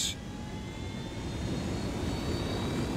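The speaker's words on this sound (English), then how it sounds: "let's take the chopper" Helicopter in the video game Ghost Recon, a steady, loud engine drone with high whine tones held throughout, alone with no talk.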